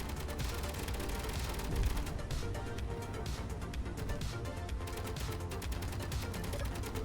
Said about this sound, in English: Ah, the beautiful sound of gunfire.